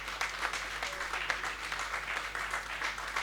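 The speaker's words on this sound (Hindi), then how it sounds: "अब ताली आपकी कितनी बजेंगी ये मुझे नहीं पता" Audience applause at a Hindi poetry recital, a steady, fairly quiet patter of many hands clapping from a crowd, continuing evenly with a low background hum.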